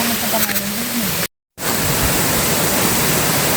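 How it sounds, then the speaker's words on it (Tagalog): Buruwisan Falls in Siniloan, Laguna gives off a steady, dense roar of rushing water, loud and close. A voice and tone are faintly heard early on, and the sound drops out briefly before the rush resumes. "Ito ang Junelia Falls."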